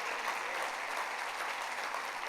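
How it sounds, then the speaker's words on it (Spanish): Steady, dense applause from a sizable church congregation during a sermon, fairly distant and even in volume for the whole stretch, with no voices on top. "Denle un fuerte aplauso a Él."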